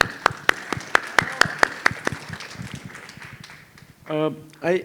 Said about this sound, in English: Please, one more hands of applause, please.